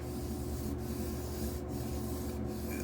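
An Intel 13900K CPU is lapped by hand, pushed back and forth with two fingers across an abrasive surface, producing a steady, continuous gritty rubbing close by, with a few brief dips in the scraping texture.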